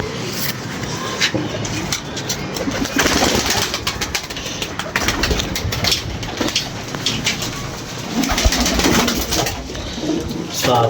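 Pigeons cooing close by, a dense continuous mix of coos and rustling with some background noise throughout, no talk.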